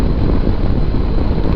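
Steady, loud wind roar buffeting the microphone while riding a motorcycle on narrow roads in Tasmania, a constant low rumble with no pauses.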